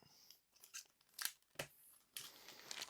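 Tops being cut off Pokémon card packs, Chinese exclusive art cards, make quiet bursts of paper snipping, tearing and crinkling in short, uneven spurts close to the listener, with no talk.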